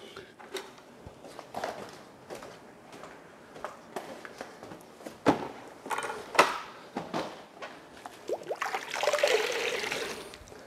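Water sprays and trickles over a car wheel during rinsing, irregular splashes and drips with scattered knocks, building to a steadier hiss near the end.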